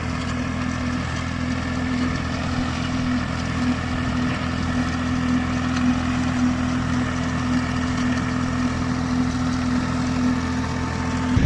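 A tractor engine drives a brick making machine, droning steadily and loudly with a constant low hum and mechanical whir throughout, with no talk over it.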